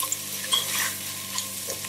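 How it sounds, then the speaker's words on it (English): Flour being stirred in a pan on the stove for cream of mushroom soup, a soft scraping and faint sizzle with small clinks, steady and close, no talking. "at this point you need to keep on stirring"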